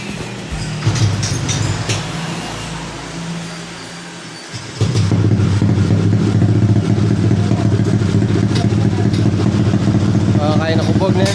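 A motorcycle engine fitted with a modified silencer pipe runs steadily. It drops out briefly, then comes back with a louder, fuller idle rumble, while a person talks over the sound.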